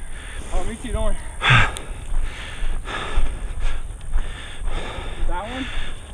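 Heavy, ragged breaths and gasps from a person near the microphone after cliff jumping on the Missouri River, loud puffs recurring every second or so with faint wind and voices in the background.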